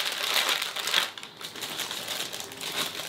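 Plastic bag crinkling as a TV wall mount is unpacked, a continuous close rustle with sharper crackles early on, heard alone.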